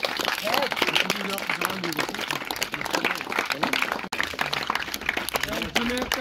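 An audience claps at the closing ceremony of a district softball championship in Pulwama, a broad continuous patter of applause that runs throughout, partly under a voice speaking over it.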